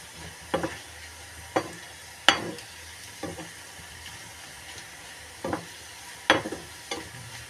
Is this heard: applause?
no